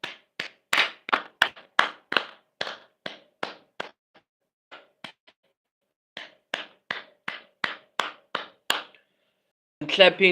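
A streamer claps his hands alone in a steady run of sharp, close claps, pauses briefly for a few scattered ones, resumes a second run, then starts talking at the end.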